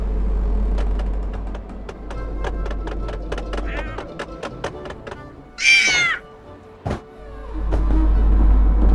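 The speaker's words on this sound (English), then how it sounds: "zapoluj na kota kucharza" A cook's cat in the Tintin Reporter video game gives a loud, clear meow partway through, following a stretch of rhythmic ticking and clicking game sounds, with a thump after it.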